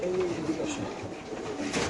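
Racer pigeons coo at a pigeon farm, soft repeated calls layered under a steady hum of the loft, with a voice briefly in the mix.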